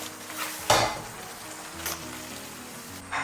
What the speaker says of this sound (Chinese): 然后再给它煸炒一下，炒至汤汁变得粘稠